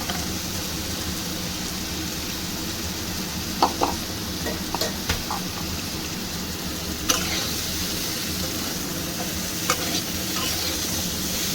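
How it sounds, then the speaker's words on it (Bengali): Ridge gourd fries with spices and green chilli in a pan for jhinge aloo chingri, a continuous dense sizzle with occasional spatula scrapes and taps, close and steady throughout, no voices. "ঝিঙেটা দিয়ে একটু নেড়ে চেড়ে নিয়েছি"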